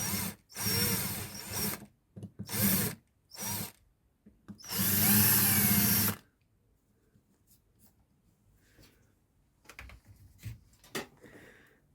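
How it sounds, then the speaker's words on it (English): A power drill whirs in several separate bursts while drilling out rivets on a BSA Bantam part, the longest burst lasting about two seconds, followed by quieter scraping and handling noises. "So just a case of drilling the rivets out and pulling it apart."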